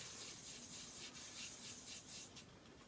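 A Real Techniques buffing brush rubs Chanel Tan de Soleil bronzer onto the cheekbones and forehead, giving a faint, steady close-up brushing swish.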